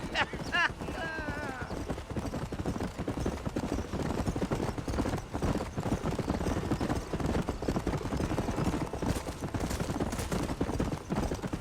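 Horse hooves clip-clop steadily at a trotting pace in the Red Dead Redemption western game, with a brief whinny near the start and a spoken line over the hoofbeats.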